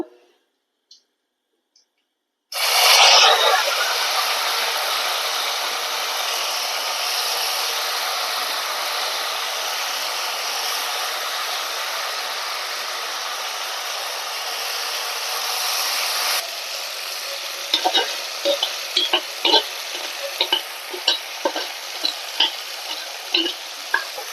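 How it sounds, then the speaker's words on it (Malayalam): Raw banana pieces sizzling and frying in a pan for horse gram thoran, a loud continuous crackle that starts suddenly, then gives way to stirring with scattered clicks and scrapes of a spoon against the pan. "അപ്പൊ നമുക്ക് ഇതിലേക്ക് കായ ഇട്ട് കൊടുക്കുക."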